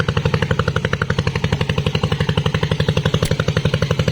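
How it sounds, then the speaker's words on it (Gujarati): A small boat engine on the Narmada River thumps in a steady, rapid, loud chugging rhythm, close and continuous without a break. "અને જો આ હોડી આવી ગઈ છે, દરિયો અત્યારે ખેડે છે આ લોકો."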